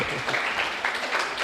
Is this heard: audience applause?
yes